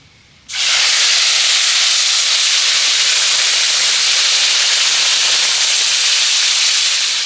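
Spice paste dropped into hot oil for a vegetarian soybean curry, bursting into a loud, steady, close hiss that begins abruptly and continues unbroken.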